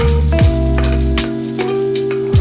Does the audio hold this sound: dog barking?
no